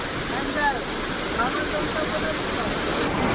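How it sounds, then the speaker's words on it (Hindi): Palani waterfall after continuous rain, water pouring down in a steady, dense rush that fills the whole clip at close range. "अब देख सकते हैं झरझर कर गिरता पानी वातावरण में संगीत पैदा कर रहा है।"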